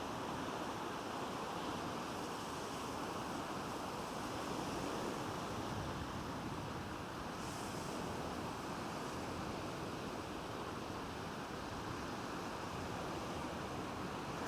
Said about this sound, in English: Still a bit of wind from yesterday, but it's much calmer.